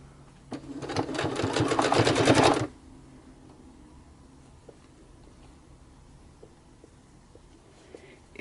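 A sewing machine stitches fabric ruffles in a quick burst of rapid mechanical clatter lasting about two seconds, followed by quiet handling sounds and faint taps.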